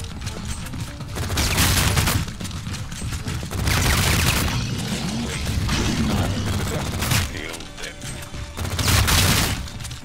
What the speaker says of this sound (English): that is the only way I'm actually able to shoot really fast with this pistol